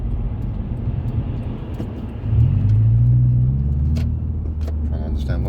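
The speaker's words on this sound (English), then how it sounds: "There's a big lorries coming out of that one." A big lorry pulls out onto a rural road, its deep engine rumble rising suddenly partway through and holding loud before easing, heard over steady road and motorbike noise.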